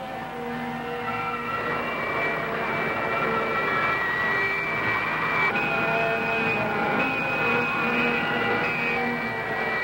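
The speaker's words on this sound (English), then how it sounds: "More thrust. I'll increase the thrust to Mach 80." Jet engine thrust is being increased, producing a steady loud roar with sustained whining tones that shift upward partway through, continuous and without pauses.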